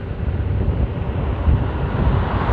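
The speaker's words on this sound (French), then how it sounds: "on a un peu de vent de face aussi mais bon" Headwind rushing past while riding an Inmotion S1F electric scooter, a steady, loud low roar of wind buffeting the microphone that continues for the whole stretch without a break.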